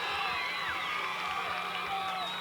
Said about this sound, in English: It's about as loud as a crowd that I've heard all year, and it's coming from way across the other side of the field.